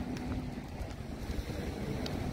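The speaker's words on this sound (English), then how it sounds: "The water runs through it and you can hear the music" Zadar sea organ on the Croatian waterfront, waves pushing water through holes beneath the stone steps, giving a steady low rumble of surf with a faint sustained tone and gusty wind noise throughout.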